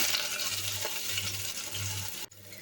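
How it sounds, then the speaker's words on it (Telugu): A steady hiss of ginger, garlic and green chilli paste frying in a pan, with a low intermittent hum beneath and a brief break near the end. "ఇదంతా బాగా వేగిన తర్వాత పచ్చివాసన పోయేంత వరకు వేయించుకోండి"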